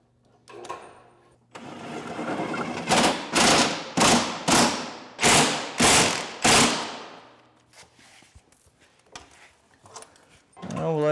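Impact wrench or ratchet loosening the front bolts during a snowmobile track change, heard as a rapid series of loud, close bursts spaced about half a second apart, with clattering tool and metal noises before and after.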